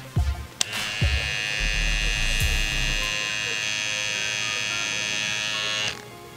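After a few clicks and handling thumps, an Andis Slimline Pro Li cordless trimmer whirs with a steady high-pitched buzz for several seconds, then switches off.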